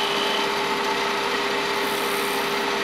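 A wood lathe spins while a tool cuts through the center of a wooden pocket mirror blank, producing a continuous, loud hissing scrape over a steady motor whine.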